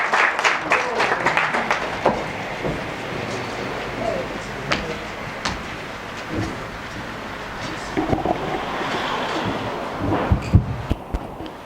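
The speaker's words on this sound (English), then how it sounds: "A round of applause for Hoffman Aipila" An audience at a book launch for a world poetry collection claps at length, with the applause rising and falling across several seconds amid scattered voices and room noise.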